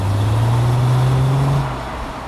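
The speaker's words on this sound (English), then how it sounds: "the V6 on this engine really does make a lovely throaty rasp when you're driving it hard" A V6 car engine revved hard gives a loud, throaty rasp, its steady note climbing for about a second and a half before easing off into a lower idle.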